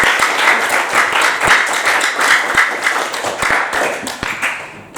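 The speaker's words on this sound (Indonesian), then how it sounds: "kita berikan aplaus untuk kita semua" Classroom applause: a group of students clapping together in a dense, steady patter of many hands that tapers slightly toward the end.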